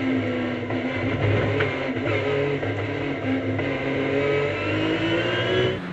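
Ginetta G50 race car racing at the Spa circuit during a Belgian touring car championship round, its engine revving loud and steady with rising and falling pitch close by, with no one speaking.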